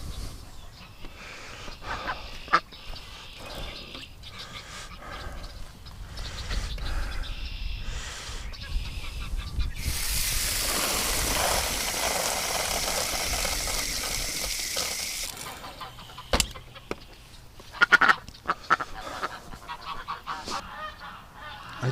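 Agitated geese honking loudly and repeatedly near a small flock of ducks outdoors, harsh overlapping calls with a burst of wing flapping or splashing in the middle, while a person speaks over the noise.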